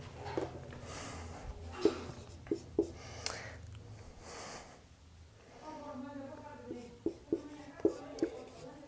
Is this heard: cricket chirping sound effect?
no